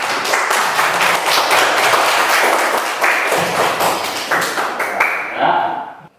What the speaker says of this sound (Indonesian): Ya, kita kasih tepuk tangan.